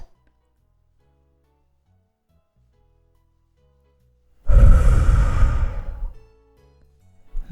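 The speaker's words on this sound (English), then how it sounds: "And now take 2, 3 really deep breaths down to the feet." One long, deep exhale during a guided breathing exercise rises suddenly out of near silence, loud and close, then trails off after about two seconds, with quiet stillness on either side.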